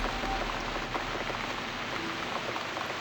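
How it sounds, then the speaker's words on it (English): Steady rain pours without a break through a game scene in the horror game The Cat Lady, a dense, even hiss with scattered droplet ticks, heard alone. "And it's raining too."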